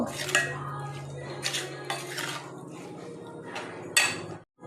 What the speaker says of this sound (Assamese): এইখিনি এতিয়া মই ভালদৰে মিক্স কৰি ল'ম